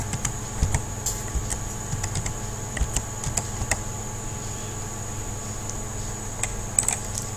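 Keys tapping on a computer keyboard while numbers are typed into a Microsoft Word 2013 document, a quick irregular run of light clicks over a steady hum, with no voices.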